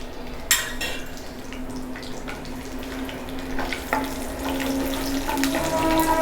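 Lentils and peanuts crackle and sizzle in hot oil in a pan, a steady close frying hiss with scattered pops and occasional stirring clinks, no voices.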